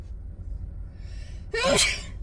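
A single sharp sneeze bursts out after a moment of near silence, loud and close.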